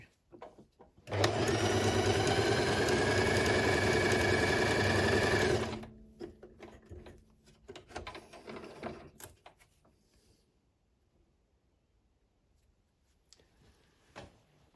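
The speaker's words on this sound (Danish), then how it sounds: "Jeg har indstillet længde og bredde, og så prøver vi lige, om maskinen kan sy" Husqvarna Viking H Class E20 sewing machine sewing a zigzag stitch, running steadily with a loud, even mechanical whir for about five seconds, then a few clicks and handling noises before falling quiet.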